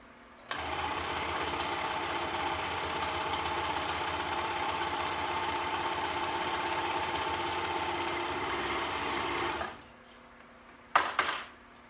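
A sewing machine runs in one long, steady, loud stretch while stitching three layers of fabric together, then stops abruptly and is followed by a brief clatter of handling.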